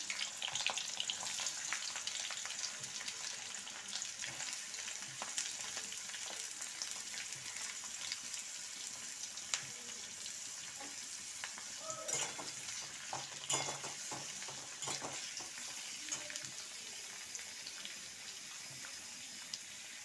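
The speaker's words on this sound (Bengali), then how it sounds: "এবার ওই তেলে আমি দুটো বড় পেঁয়াজ পাতলা করে কেটেছিলাম দিয়ে দিলাম।" Two thinly sliced large onions frying in oil, a faint continuous hiss with scattered soft crackles and a few louder clicks of a utensil midway, heard alone.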